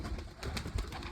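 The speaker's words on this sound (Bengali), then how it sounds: "আমার কবুতরগুলো এই" Pigeons kept by a hobby breeder coo in a loft, low soft murmuring calls repeating under a steady background hum, with no talk over them.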